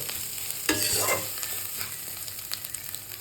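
Vegetables frying in a pan, stirred with a spoon so the scrape rises briefly over a steady sizzle that carries on alone, close and moderately loud.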